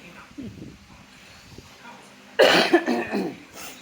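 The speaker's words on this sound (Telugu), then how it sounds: "ఎండుమిర్చి ఘాట్ వల్ల దగ్గులు వస్తుంది" A few sharp coughs, set off by dried red chilli fumes, burst out close by after a quiet stretch with faint voices, loud and rough in a short cluster.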